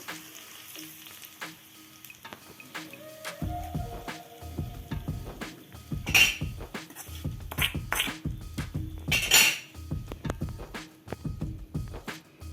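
Fried eggplant fritters dropped into a pan of eggplant curry, with a run of soft thuds and scrapes over a faint continuous sizzle, close and moderately loud, no talk.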